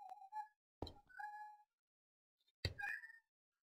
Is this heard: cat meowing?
yes